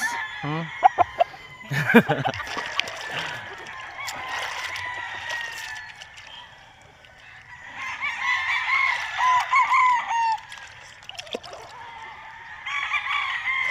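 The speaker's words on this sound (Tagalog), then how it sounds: "ito na nga pala sila, yung mga stag namin, yung mga 5 months old namin na stag na alaga rito" Five-month-old gamecock stags crow repeatedly and cluck at close range in a rural yard, the calls overlapping in bursts with a quieter lull midway before more crowing rises again.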